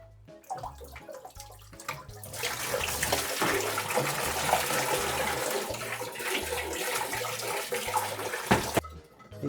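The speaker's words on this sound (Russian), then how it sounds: "потому что вода, остатки будут сливаться" Water drains from a rusty household water boiler into a bucket, a steady rushing splash that swells after a couple of seconds and holds, close by, over a faint rhythmic low thumping.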